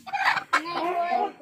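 A chicken clucks in two short, close bursts in a Pakistani village setting, loud and clear with no speech over it.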